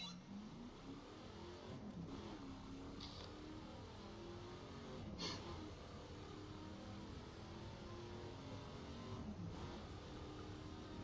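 A fast car climbing the Pikes Peak hill climb in a racing game, its engine droning steadily at high revs with rising and falling pitch through gear changes, close and continuous throughout.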